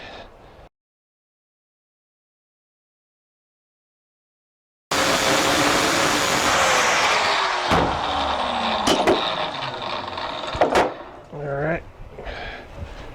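Metal grinding outdoors while building a homemade molding bench: after a brief opening sound and several seconds of silence, a loud, steady abrasive roar runs continuously with shifting pitch and short pauses near the end.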